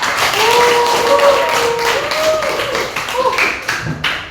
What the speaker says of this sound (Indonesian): Karena tepuk tangan untuk Nani